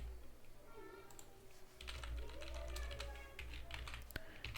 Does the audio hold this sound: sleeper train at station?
no